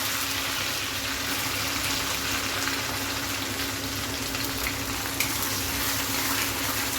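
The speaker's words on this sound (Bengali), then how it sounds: "তেলটা গরম হয়ে গেছে, এখন আমি তেলের ভিতরে কাঁচা লঙ্কা আর পেঁয়াজটা দিয়ে দিব।" Green chilies and onion sizzle in hot oil in a wok, a dense, steady hiss of frying that continues evenly and close up with no talking.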